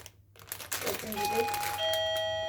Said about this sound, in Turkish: zil çalalım